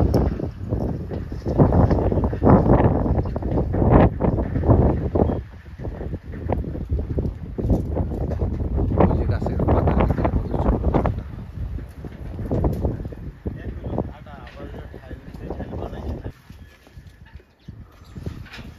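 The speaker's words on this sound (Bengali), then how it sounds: "বাতাসের কিন্তু অনেক জোর আছে কিন্তু।" Strong wind buffets the microphone outdoors among trees during honey collection from a beehive, coming in irregular loud rumbling gusts that ease and return throughout.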